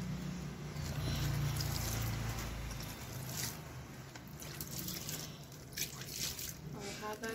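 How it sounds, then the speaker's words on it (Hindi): Water poured gently by hand onto leafy greens (saag) plants, a soft steady splash and trickle that fades after about three seconds into lighter dribbles and drips, close by, with no talking. "इस पर मैं पानी डाल दूंगी"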